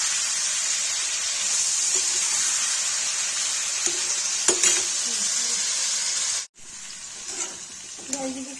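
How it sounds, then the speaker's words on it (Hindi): Chicken liver sizzles and fries steadily in a hot pan with a bright, continuous hiss, broken by a few clinks of stirring and a brief drop-out near the end. "कलेजी की कलेजी फ्राई हो गई"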